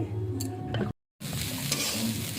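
Dried shrimp frying in oil with garlic, panch phoron, bay leaf and green chilli, giving a steady close sizzle with stirring scrapes, broken by a brief silent gap midway.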